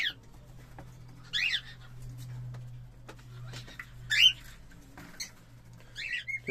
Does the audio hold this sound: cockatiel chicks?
yes